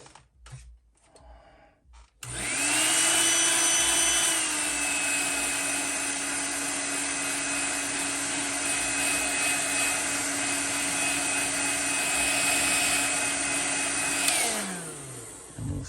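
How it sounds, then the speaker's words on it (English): A heat gun heat-setting colorshift paint on a custom swimbait, switching on with a loud steady whirring blower roar that holds for about twelve seconds before cutting off and winding down. "I'm going to heat set that really fast because I don't want to put my hands on it."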